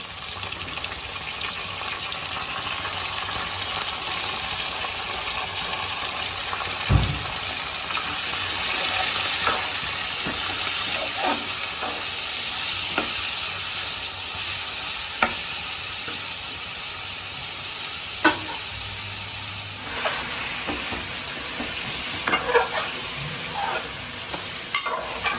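Mutton head curry with goat head meat sizzles steadily in a pan, a constant hissing fry broken by occasional scraping knocks as it is stirred.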